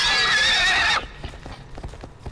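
A horse in a horror video game lets out a loud, drawn-out neigh, followed by the hollow clip-clop of galloping hooves in a quick uneven rhythm, close and loud with no voices.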